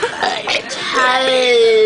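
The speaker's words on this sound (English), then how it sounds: "You missed my only burp." A single short burp, fairly close and loud, surfacing amid casual chatter between friends, with voices carrying on around it.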